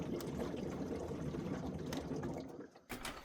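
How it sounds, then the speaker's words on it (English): Air blown down a washing machine pressure switch tube releases a blockage, a steady rushing, gurgling hiss that holds for about three seconds, dips briefly, then resumes, close and fairly loud. "We're going to blow down this, listen carefully, and you should hear that blockage being released."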